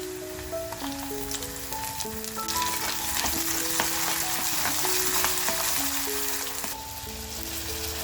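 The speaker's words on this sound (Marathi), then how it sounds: "त्यात तेल टाकलं आणि तेल तापल्यानंतर लगेच कांदा टाकला" Onion frying and sizzling in hot oil at the start of a dry mutton dish, a steady close crackling hiss that swells and continues throughout, with faint background music.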